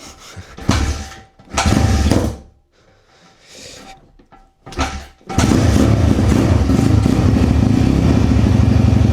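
A cold dirt bike engine sputters through a few kick-start attempts, then catches and settles into a loud, steady running idle on choke close by.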